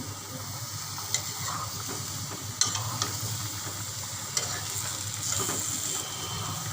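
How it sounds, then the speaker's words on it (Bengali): Tomato and eggplant lightly stirred in a hot pan, a continuous soft sizzle with a few distinct spatula taps and scrapes, close and moderately quiet, no voices. "এখন আমি হালকা করে একটু নেড়ে দিচ্ছি।"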